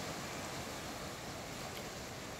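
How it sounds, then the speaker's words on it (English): Ocean surf at sunset along the Kailua-Kona shore in Hawaii gives a constant broad wash, steady and moderately loud, with some wind noise on the microphone and no speech. "Can you hear the waves?"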